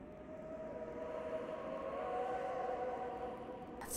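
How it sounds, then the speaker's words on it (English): Sirens in a video game wail steadily at a moderate distance, a sustained tonal drone holding at an even level for several seconds with no talk over it. "That's sirens"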